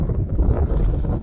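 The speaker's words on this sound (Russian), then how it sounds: "Ветер очень сильный, порывы непредсказуемые." Strong, gusty wind on open water while paddling a packraft on a fishing trip, heavy low rumbling buffeting against the microphone in continuous surges with no voices.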